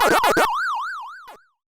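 Pac-Man arcade-style electronic siren from a video game remake, a smooth wavering tone rising and falling in steady cycles, loud and clean, preceded by a burst of game sound effects.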